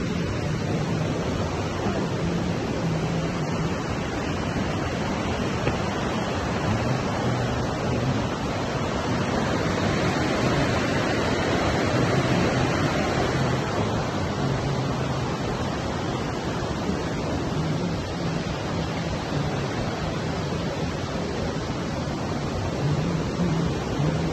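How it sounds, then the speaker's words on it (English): River water flowing over rocks makes a continuous loud rushing wash, steady and broadband throughout, with no talk. "you'd be walking on these rocks and the water's just kind of flowing by"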